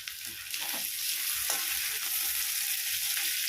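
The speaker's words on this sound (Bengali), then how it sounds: "এবার আমি কয়েক সেকেন্ড বেজে নিচ্ছি প্রথমে" Green chillies and other chopped ingredients for a vegetarian papad recipe fry in a pan, a steady close sizzle that holds evenly throughout with a few soft stirring scrapes and no talking.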